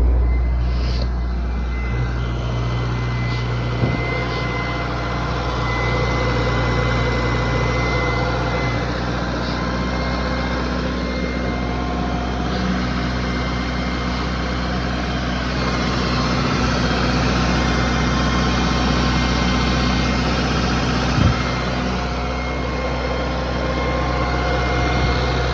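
A freshly rebuilt Honda K20z3 engine in a 2009 Civic Si FG2 idles steadily and loudly for a long stretch, a constant drone with a cooling fan running and a couple of faint clicks.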